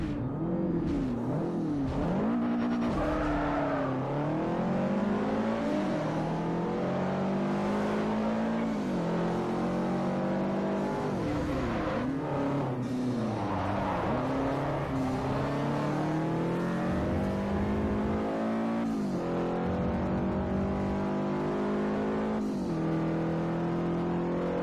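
Race car engines during a Forza Motorsport 4 JDM sports car race, continuously loud and close, revving up through gears in rising whines with shifts and downshifts, other cars audible alongside.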